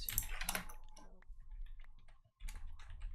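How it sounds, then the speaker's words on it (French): Quiet computer keyboard typing comes through online game voice chat as short bursts of clicks, strongest near the start, fading into sparse taps before a brief silence. "Pourquoi j'ai entendu clavier à l'infini?"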